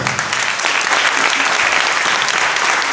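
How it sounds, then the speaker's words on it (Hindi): Loud sustained applause fills a church gathering for a Bible sermon, dense hand clapping from a congregation continuing steadily for several seconds. "एक अच्छी ताली अभी तक प्रभु के लिए, जोर से"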